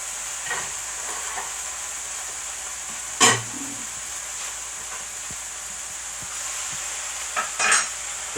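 Cooked spaghetti lands in a hot pan with toasted cauliflower, raising a steady sizzle and hiss and a sharp clatter of tossing and stirring, with a few brief bumps near the end.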